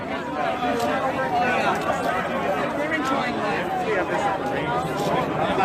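Crowd chatter at a Reopen MA rally of roughly two thousand people outside the State House on a closed street, a dense continuous babble of many voices.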